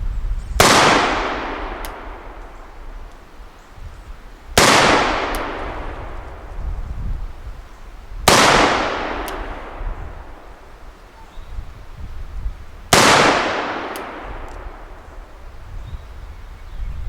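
Four sharp gunshots from an engraved EMF Dance & Bros revolver ring out, fired offhand at 15 yards, each crack spaced about four seconds apart and trailing a long echo outdoors.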